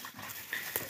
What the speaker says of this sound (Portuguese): Os cachorros estão tudo aqui